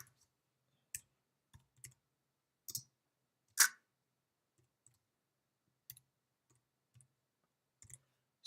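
Computer mouse clicks in a quiet room, about a dozen sharp isolated taps spread irregularly, close and clear with silence between.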